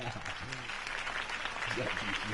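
Steady crowd applause and cheering in the video game Batman: The Telltale Series fills the whole stretch, dense and even, with faint voices underneath.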